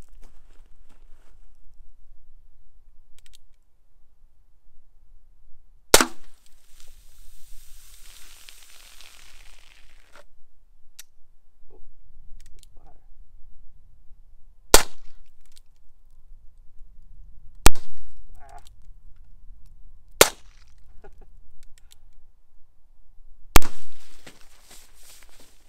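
Heritage Rough Rider revolver firing at soda cans outdoors: several sharp, loud single shots spaced a few seconds apart, with quiet ambient noise between them.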